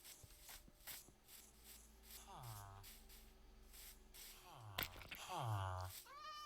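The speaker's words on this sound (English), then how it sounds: "Let's see if we can find another cat." Minecraft cats meow several times in the game, short rising-and-falling cries spaced a few seconds apart, with a hissing spray-like burst and a player talking between them.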